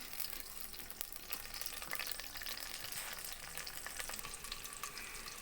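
Two medium onions frying until brown for a dal, a steady dense sizzle with crackling oil that holds level and close throughout, with no voices.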